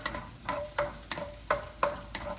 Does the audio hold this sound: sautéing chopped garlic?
yes